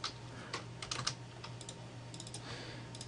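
Quiet typing on a computer keyboard while entering a folder name, a short burst of light, irregular key clicks close up over a faint steady hum.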